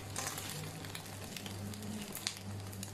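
Food sizzles steadily in a hot pan after being flipped, a quick Ramadan suhoor meal in progress, with a continuous close crackle, a low hum underneath and a few sharper pops.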